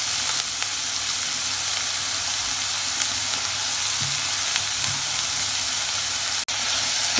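Sliced onions sauté with salt in a hot pan, a dense, steady sizzle that holds loud and close throughout, with faint stirring scrapes beneath and no voices.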